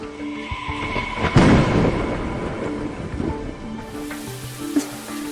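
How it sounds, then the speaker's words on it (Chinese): Anime thunder rumbling through a stormy scene, a broad low crash swelling near the middle and then rolling on under a steady wash of rain-like noise and faint music tones, with no voices. "破天气，这回开始打雷了。"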